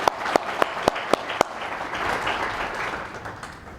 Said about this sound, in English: let's give them all a round of applause for all of our amazing students